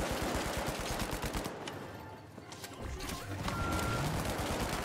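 Rapid automatic gunfire in the video game The Finals rattles in dense bursts, easing briefly before fast volleys resume, with a player's voice talking over it.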